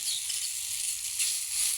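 Pumpkin seeds fry in a pan, producing a steady, bright hiss of sizzling oil that holds constant and fairly loud throughout, with no voices.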